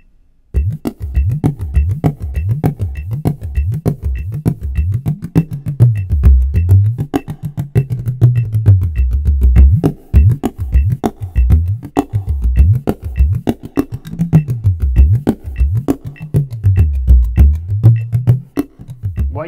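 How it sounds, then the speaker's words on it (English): A bodhrán frame drum plays a solo improvisation on a backbeat feel, with rapid rhythmic strokes, shifting pitch from tonal variation, and quick embellishments, close and loud throughout. "What you just heard was a short improvisation on a train or backbeat feel,"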